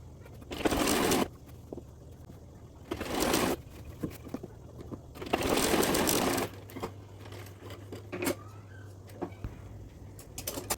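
An electric sewing machine stitches rubber elastic into a salwar waistband in three or four close, loud bursts of rapid whirring, with short pauses and a low steady hum between them.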